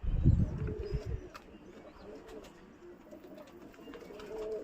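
Soft pigeon coos from covered coops, low and rounded, repeating every second or so with a brief louder rustle at the start; quiet and fairly close.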